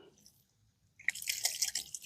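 Water splashing and dripping as a French press screen is rinsed outdoors at a camp, silent at first, then a second of close, busy trickling and drips.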